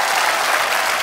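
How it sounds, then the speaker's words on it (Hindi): Studio audience applause at a comedy talk show, a dense, steady wash of clapping that holds at the same level for the whole moment, with no voices over it. "And number one comedian, my brother Kapil Sharma के लिए जोरदार तालियां"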